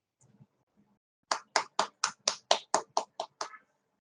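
Hands clapping for a guest speaker at an interactive session, about ten sharp, evenly spaced claps in a quick steady rhythm, close and fairly loud, with no talk over them.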